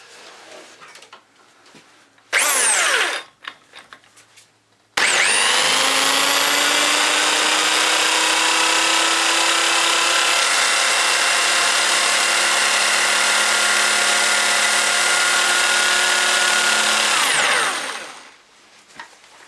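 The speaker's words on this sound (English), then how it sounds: "I've got a nice big drill." A large power drill used in a Lucas 16ACR alternator repair on a Classic Mini gives a short loud burst, then runs about twelve seconds as a steady, close, high-pitched whine before spinning down.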